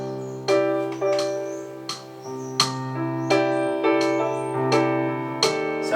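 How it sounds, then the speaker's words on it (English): Solo piano playing the original accompaniment of a love song, with a steady series of struck chords roughly every half second to second, each ringing and decaying, clear and close with no talking. "if I play you the original piano part"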